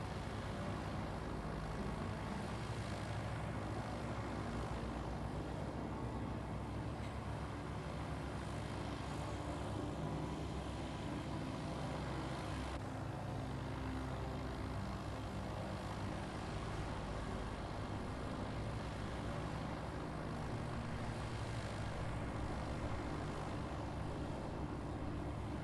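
An aircraft engine in the video game Space Engineers drones at a steady, dense level throughout a climbing flight, with no breaks.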